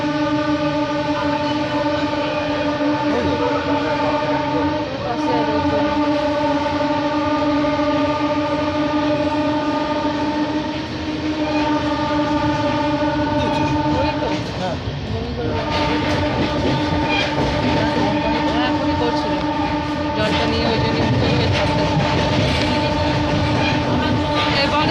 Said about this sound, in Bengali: এই আসানসোল টু বর্ধমান লোকাল ট্রেনে এই যাত্রায় এটি হলো পানাগড় স্টেশন।